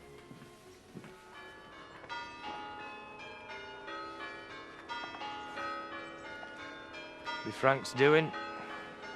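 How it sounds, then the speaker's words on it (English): Church bells peal steadily with layered ringing tones at moderate distance, voices talking intermittently over them, and a brief louder bright burst of bell or chime sound near the end. "Ringing the church bells, let the world know."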